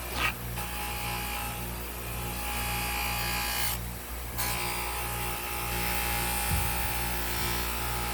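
A Ryobi bench grinder polishing with yellow compound runs as a steady loud motor whine and buffing hum, near and continuous, with two brief dips where the workpiece is lifted away.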